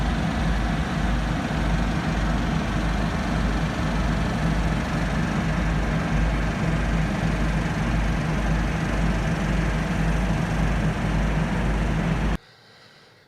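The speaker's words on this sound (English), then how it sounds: "the generators we hear in the background constantly" Steady low engine drone of generators running nonstop outdoors during rolling blackouts, a constant heavy hum that cuts off abruptly near the end.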